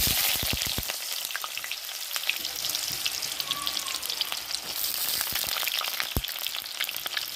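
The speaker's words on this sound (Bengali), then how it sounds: "এবার সবজিগুলো ভেজে নেবো। তো এই যে তেলটা দেওয়া হয়ে গেছে, তেলটা গরম হয়ে গেছে।" Carrots and other vegetables frying in hot oil give a steady, close, crackling sizzle with scattered sharp pops and spatters throughout.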